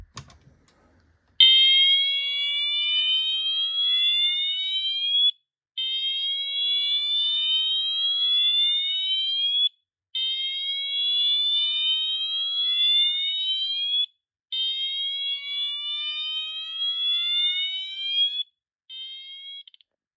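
An Eaton Wheelock ELMTSC fire alarm horn strobe sounds a slow whoop, rising tone sweeps repeating about every four seconds with short gaps, loud and close, no other sounds.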